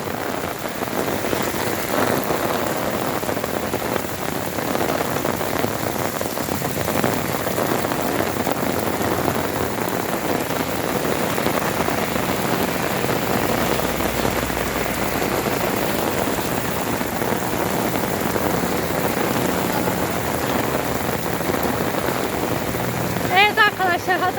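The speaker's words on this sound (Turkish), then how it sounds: "O kadar yağmur yağıyor ki üşüdüm." Heavy rain pours steadily in Antakya near the Asi River, a dense, constant hiss of drops striking surfaces that fills the whole stretch, with a faint voice heard beneath it.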